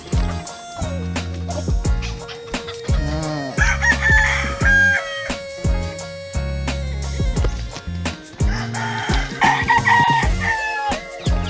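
Roosters crow and hens cluck loudly at a gamefowl farm, with chicks among the birds, in a dense, continuous chorus of overlapping calls close by.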